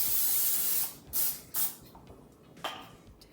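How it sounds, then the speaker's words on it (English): Cooking spray hisses from an aerosol can onto a pizza pan: a long steady spray, then several short bursts, close and fairly loud with no talking. "Then you're going to want to spray your pan."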